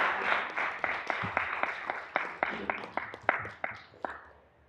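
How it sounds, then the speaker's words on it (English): Scattered hand clapping from a small group at a board meeting, with sharp, uneven claps that build and then taper away, heard at moderate distance in a room. "Another round of applause."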